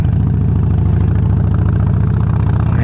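A motorcycle engine idles close by with a steady, rapid low throb and no other sound over the short stretch.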